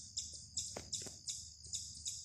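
A chipmunk in the Appalachian woods gives a run of short, high chirps at an even, steady pace, faint and repeated about every third of a second, with no talk.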